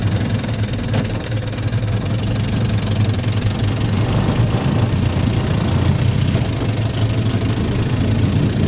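An antique 1953 Firestone outboard motor runs steadily with a rough, knocking idle, holding a loud, even drone up close for the whole stretch without any talk.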